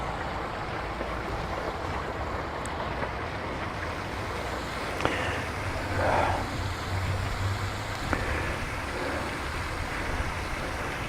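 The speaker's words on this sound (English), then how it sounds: "open the gray tank, and that will flush out your sewer hose." Gray water rushing from an RV gray tank through a sewer hose during dumping, a steady broadband whoosh with no talking, a faint rise near the middle.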